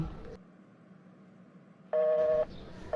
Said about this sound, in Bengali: ফোনটা বিজি দেখাইতেছে